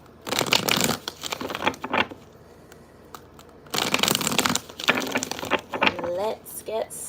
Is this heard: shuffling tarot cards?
yes